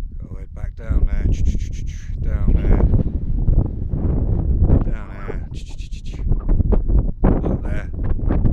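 Loud, blustery wind on a mountain buffeting the microphone in heavy low rumbles, with a person talking underneath the gusts.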